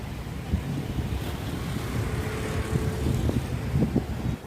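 Steady wind rushing and buffeting against the microphone ahead of a thunderstorm in Mylavaram, with low rumbling gusts that rise and fall throughout, no voices.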